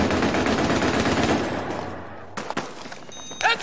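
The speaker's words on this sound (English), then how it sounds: "Hostile machine gunner spotted." Machine gun fire in Battlefield 3 on PS3, a loud sustained burst of rapid automatic shots that cuts off abruptly, followed by a few scattered sharp impacts and cracks.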